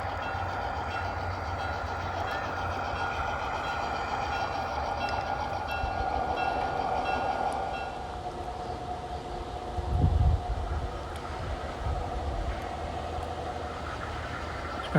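G scale model train of the N&W Hagans Branch running on an outdoor layout, a steady faint rolling hum with a tonal whine, a brief low thump near the end, no voices.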